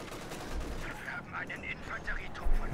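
A Panzer IV tank fires its gun in the World War II strategy game Company of Heroes 2. Two dull, low booms are partly masked by a voice speaking over the game's battle noise.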